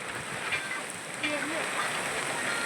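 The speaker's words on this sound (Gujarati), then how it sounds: "જુઓ મોટા ખોખરામાં વરસાદ આજનો" Rain with strong wind and hail pours down on a village during a storm, a steady close hiss of drops filling the whole stretch with faint background sounds beneath.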